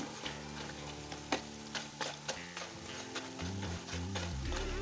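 Steady sizzle of Kerala nendran plantain chips frying in hot oil with occasional pops and stirring clinks, fairly quiet and close, no voices.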